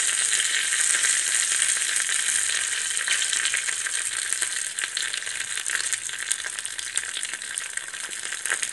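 Dried red chillies and curry leaves sizzle hard in hot oil while tempering a Kerala moru curry, a loud, steady crackling fry that runs unbroken throughout with no talk.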